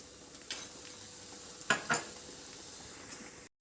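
Sugar being stirred into cooked sago for halwa in a pan makes a soft, steady stirring hiss with a few sharp clinks of the spoon against the pan.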